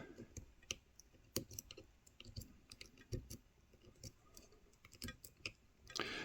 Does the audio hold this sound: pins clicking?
yes